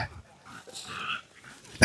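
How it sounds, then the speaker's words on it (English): A dog barks and yips nearby in a short excited sequence, ending with a sharp loud bark. "Boy, the dog's getting fired up today, isn't he?"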